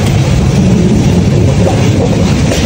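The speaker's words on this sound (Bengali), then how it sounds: "ফাইনালি 10টার সময় ঠিক ট্রেন চলা শুরু করে দিল" The Dhaka to Sylhet train starts rolling, heard from inside the carriage as a loud, steady low rumble and rattle with no talk.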